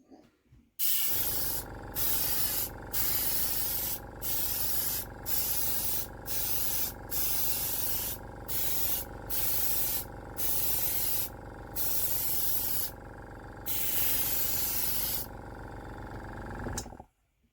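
A Timbertech airbrush sprays paint in a steady, loud hiss, cut by about a dozen brief pauses as the trigger is released and pressed again, then stopping near the end.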